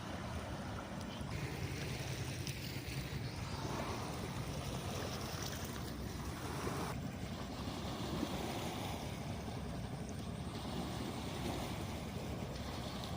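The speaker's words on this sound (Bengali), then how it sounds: "ওই দূরের দিকে দেখো কতটা ঢেউ হচ্ছে কারণ হচ্ছে এই জাহাজটা গেল" Along a riverbank, waves stirred up by a passing ship wash and lap at the shore in a continuous soft, faint rush, with light wind and no speech.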